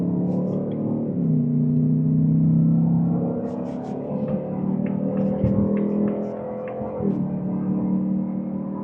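Ford Mustang RTR Spec 3 with a 10-speed automatic cruising a service road, a steady close cabin engine drone that shifts pitch at a couple of gear changes, with faint clicks and thumps over it.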